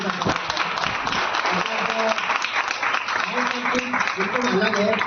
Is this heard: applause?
yes